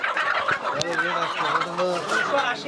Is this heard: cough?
no